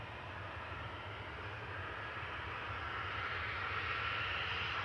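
Airliner taxiing at Manchester Airport with its engine running, a steady broadband roar and whine that grows slightly louder over a few seconds, moderately distant and continuous with no talk.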